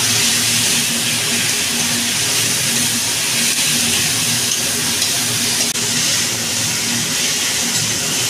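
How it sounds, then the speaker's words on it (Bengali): Garlic paste sizzles and fries in a pan while being stirred, a loud, steady, close hiss that runs unbroken throughout. "রসুন বাটাটা দিয়ে আমি খানিকক্ষণ নাড়াবো"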